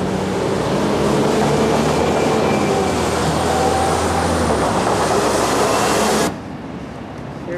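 A DART train in Dallas passes close by with a loud, steady rumbling roar and rattle for about six seconds, then cuts off abruptly to a quieter background hum.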